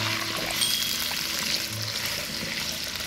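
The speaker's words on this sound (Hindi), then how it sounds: "अब ये जो सब्जियां मैंने आपको बताई थी ये इसमें हम शामिल कर देंगे। अच्छे तरीके से सब्जियों को फ्राई करेंगे।" Carrots, peas and potatoes fry with cumin in a pot for pulao, giving a steady, loud sizzle with faint stirring scrapes and no voice over it.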